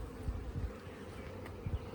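Honey bees buzzing in a top bar hive, a steady low hum with a few louder pulses as bees move nearby, no talking.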